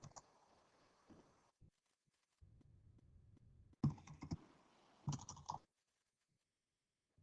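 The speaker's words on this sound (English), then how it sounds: "Let me just type that in." Someone types on a computer keyboard, faint scattered key clicks and short bursts of tapping separated by near silence, quiet and close.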